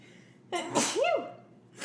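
A single close, loud sneeze with a sharp intake of breath before the burst, alone in a quiet room.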